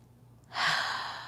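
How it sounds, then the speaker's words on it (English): A single slow, deep breath during a restorative yoga session: quiet stillness, then a soft, breathy exhale swelling up and held steady, close and alone. "we'll again take a few deep breaths"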